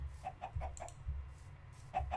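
Chickens cluck in a pen in the Minecraft video game, a quick run of short, close clucks followed by a pause and then a couple more, with no talk over them.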